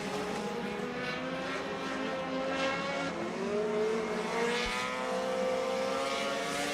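Modified race cars roaring around a dirt track during a race, several engines droning and revving together in a continuous, loud, layered wash with rising and falling pitch as cars pass.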